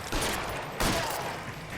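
Gunfire in the crime video game L.A. Noire: a dense, loud burst of shots, a brief lull, then a second heavy volley, with no talk over it.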